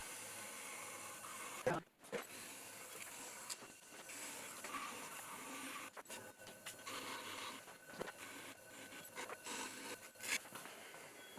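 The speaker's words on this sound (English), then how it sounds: "The firmer clay is harder to trim without the tools chattering." Turning tools trim a firm clay pot with faint, continuous rubbing and scraping and an occasional sharp click. It is quiet and close, and no one speaks.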